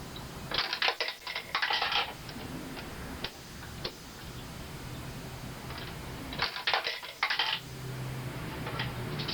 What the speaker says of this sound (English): so why are the coins not taking?